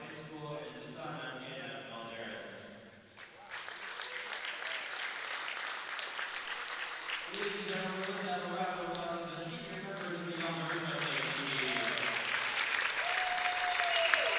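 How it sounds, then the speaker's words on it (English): A crowd at a 2013-14 Elmhurst College senior wrestling recognition applauds in a dense, steady roar of clapping that swells toward the end, with voices mixed in. "They'll take one more round of applause from everyone to be recognized"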